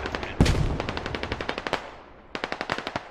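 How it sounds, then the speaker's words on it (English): Automatic gunfire from the video game Squad rattles off in two rapid bursts of evenly spaced shots, loud and close, with a brief pause between the volleys. "Toasty and Toaster now engaging whoever was shooting"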